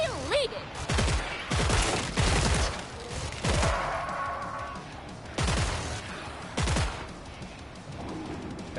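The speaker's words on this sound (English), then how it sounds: "Here's a turret. Turrets live!" Automated turret gunfire in Killing Floor 3 on PS5 Pro, heard as loud clustered bursts of rapid shots repeating every second or so, close and dominant, with game effects filling the gaps between volleys.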